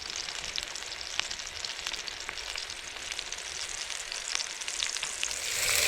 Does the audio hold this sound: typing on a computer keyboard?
no